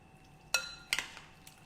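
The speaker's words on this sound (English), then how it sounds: "Mash this butter against the inside of the bowl." A spoon knocks and scrapes against a bowl while mashing butter into cheese tortellini with walnut pesto, two clear clinks close together followed by a faint tap, otherwise quiet.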